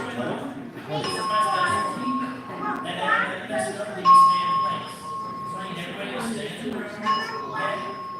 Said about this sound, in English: the bell sound you've just heard is part of our first stage alarm system